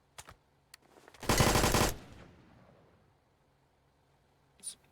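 A rapid burst of automatic gunfire rings out in the video game BRM5, a loud rattling volley under a second long, followed by a fading echo and a few faint single shots.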